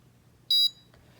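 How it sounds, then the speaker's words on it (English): A greenhouse water sensor system's warning buzzer gives one short, sharp electronic beep, loud and steady for a fraction of a second, against a quiet low hum. "now it's buzzing, which means it's giving us a warning sign"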